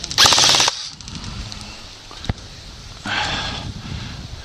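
Airsoft guns fire during an outdoor skirmish: two short bursts of rapid shots, with a single sharp crack between them.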